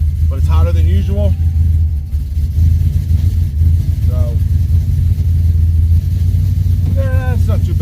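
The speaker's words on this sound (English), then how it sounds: "Cutouts closed, nothing crazy, just a normal startup." A Whipple-supercharged truck engine with cutouts closed idles loud and steady at close range, a deep low rumble running throughout while someone talks over it in short bursts.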